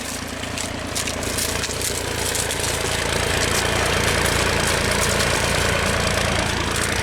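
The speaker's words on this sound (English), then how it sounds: "it's not very easy with the sound of the engine" A tractor engine runs continuously at close range during ploughing, a loud steady rumbling drone with a faint rhythmic knock throughout.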